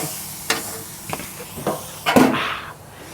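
Steak searing in beef tallow in a small pan cooked inside a truck cab, a few sharp clicks and knocks followed by a short burst of sizzling that fades out.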